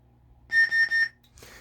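Three short, bright electronic beeps from a Sabertrio lightsaber hilt in quick, even succession, followed by a faint rustle of handling.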